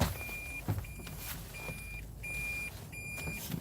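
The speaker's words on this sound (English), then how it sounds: "Enjoy that beeping." A vehicle emits a series of five evenly spaced electronic beeps, each about half a second long, over a low background hum.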